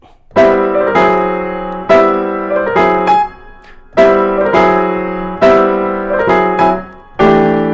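Jazz piano plays a rhythmic introduction of repeated full chords in short phrases, each group ringing out and decaying before the next, close and clear.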